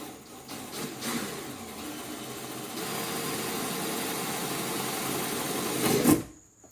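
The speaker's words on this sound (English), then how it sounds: "we're going to drill perpendicular to the top of the hood" Power drill boring a hole through the single top layer of a Ford Mustang S550 hood, a steady whirring buzz running close and loud for about six seconds, rising briefly as it breaks through, then stopping.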